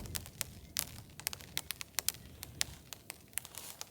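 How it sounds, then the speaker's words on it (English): Sleety rain on a freezing mountain during truck camping with no tent, heard as scattered sharp ticks and pattering hits, irregular and fairly close, over a quiet hiss. "Sort of sleety rain."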